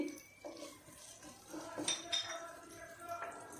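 A spoon stirs chopped onions and spices in a cooking pan for a chicken and eggplant curry, giving faint scraping and a few light metallic clinks, close and quiet.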